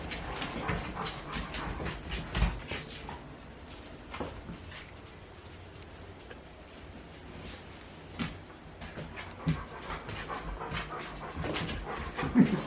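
Several dogs inside a house pant quietly and continuously, with occasional soft whimpers and small thumps rising from the low, steady breathing.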